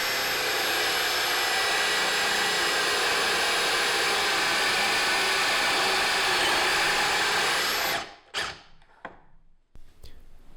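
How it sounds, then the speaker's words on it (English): A drill bores holes through the wooden seat of a Shaker-style bench with Windsor styling, giving a loud, steady high whine for about eight seconds before cutting out into a few clunks and quieter handling noises. "Once the holes are drilled through the seat"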